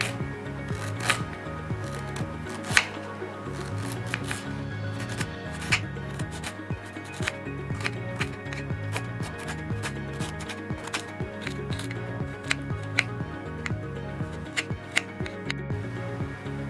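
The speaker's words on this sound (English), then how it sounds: "Now these ginger pieces I will cut into small pieces." A kitchen knife chops ginger into small pieces on a board, with quick close repeated taps at an irregular steady rhythm throughout and no talk.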